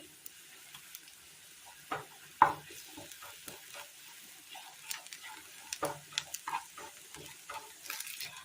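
Coriander powder and chili powder fry in hot oil in a pan, a quiet crackling sizzle with scattered stirring taps close by and no voices.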